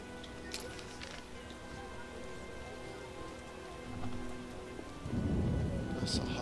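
In-game rain from The Witcher pours as a continuous soft hiss, then strengthens into a heavier, rumbling wash near the end, with faint wet spatters scattered throughout.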